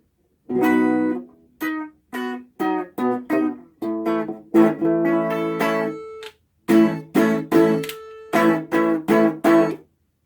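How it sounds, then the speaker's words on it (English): Electric guitar, an Ibanez GAX 70 played on the bridge pickup, bright and twangy, with short strummed chords and single notes separated by brief pauses, close and fairly loud. "Now the bridge pickup."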